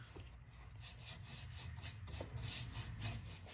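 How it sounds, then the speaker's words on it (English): Aging wax being rubbed off painted wooden furniture with a cloth, a steady soft rasping and rubbing texture that continues without pause, close and fairly quiet, with no talking. "Then I'll just start to rub off the excess."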